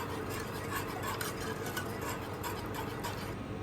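Milk sauce for a chicken pie simmers in a pan while a utensil stirs it, making a steady soft bubbling hiss with faint scraping taps throughout. Nobody talks over it.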